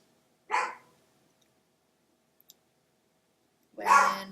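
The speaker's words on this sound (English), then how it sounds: "That's my dog barking in the background." A dog barks in the background, with two separate bursts spaced a few seconds apart and a quiet gap between them.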